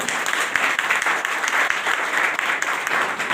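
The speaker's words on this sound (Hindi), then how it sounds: "हाथ ताली से स्वागत।" Sustained audience clapping welcoming someone at a motivational speech gathering, a dense, even wash of many hands, loud and unbroken.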